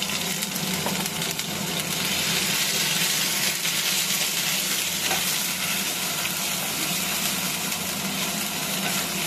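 Ginger paste frying in hot oil with already-fried curry leaves, for an aloo puri dish, gives a loud, steady, close sizzle that crackles evenly without pause.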